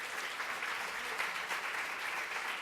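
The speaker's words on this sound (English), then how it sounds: "A round of applause." Audience applause at the SDG 2013 Annual Conference: a steady, even wash of many hands clapping, moderately quiet and sustained, with no voices over it.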